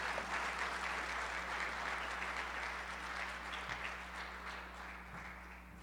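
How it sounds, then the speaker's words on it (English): An audience at a Louisville evening event applauds steadily to welcome Pastor Vincent James, a dense wash of many hands clapping that holds at an even level for several seconds over a low background hum. "Give him a warm round of applause"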